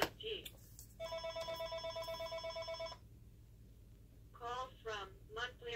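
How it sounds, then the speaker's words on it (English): A telephone bell rings in a steady pulsing trill for about two seconds, loud and close, then stops; a person talks briefly afterward. "There's that phone."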